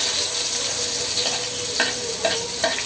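Onions sautéing alone in leftover chicken-frying oil, a steady close sizzle with a few brief spoon scrapes and stirs cutting through.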